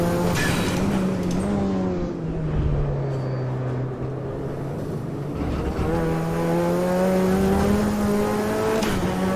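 A Mazda MX-5 engine drones loudly through a lap in a racing sim, holding a steady buzzing note that dips and climbs with gear changes and throttle, close and continuous.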